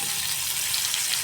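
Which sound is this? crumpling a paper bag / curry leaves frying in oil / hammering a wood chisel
curry leaves frying in oil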